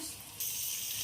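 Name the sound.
water being poured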